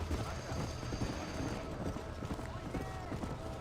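Horse hooves clatter in a rapid galloping rhythm in Red Dead Redemption, running horses pulling carts close by, the hoofbeats continuous under busy game sound.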